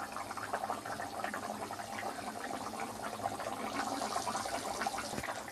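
A pot of potato curry with spices bubbles at a low boil for about ten minutes' cooking, giving a soft, continuous watery burble and crackle with no speech over it.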